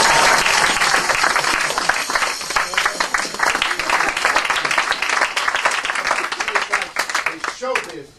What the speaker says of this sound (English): That's how you get the applause.